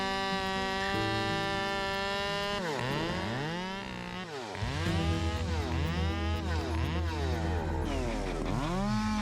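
A Husqvarna 572 XP chainsaw with a 70.6 cc engine idles, then revs hard and bites into wood on a logging job, its pitch swooping up and down with each cut, loud and close with no talk.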